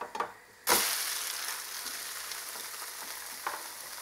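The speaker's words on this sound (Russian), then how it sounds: "Жарю с другой стороны буквально несколько секунд, и блинчик готов" A thin crepe fries in a hot pan, a close, steady sizzle that swells suddenly after a brief clatter and then holds evenly, with one small knock near the end.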